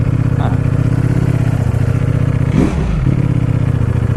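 A Ducati Panigale V4 motorcycle engine runs loud and steady close by, with a brief rise in revs partway through and a low rumble throughout.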